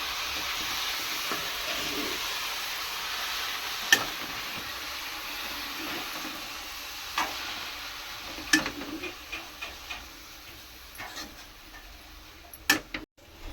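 Coconut beetroot fry is stirred in a pan, with a low steady sizzle and scattered spatula clicks and scrapes that grow more frequent toward the end. No one speaks.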